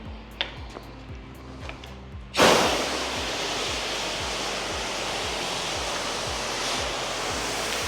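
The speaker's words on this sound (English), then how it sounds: "I'm going to do a quick rinse down." A pressure washer rinsing down a house exterior during a soft wash in Pinellas Park, Florida, bursting on after a few quiet ticks into a steady, loud, hissing spray that holds without a break.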